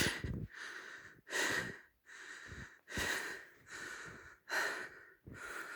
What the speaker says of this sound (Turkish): Gerçekten nefes nefese kaldım.